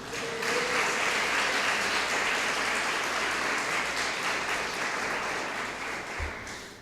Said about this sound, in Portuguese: Você pode glorificar a Deus com as suas palmas por isso?